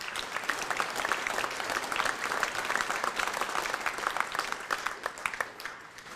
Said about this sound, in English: give them a little round of applause too